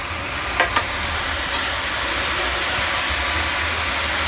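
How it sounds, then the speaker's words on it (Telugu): Murukku dough deep-frying in hot oil for a Sankranti festival snack, giving a steady, close hiss of sizzling with a few faint pops and clicks, no talking. "ఇప్పుడు అయిపోయింది, మంచి డీప్ ఫ్రై చేసుకోవాలండి మనం."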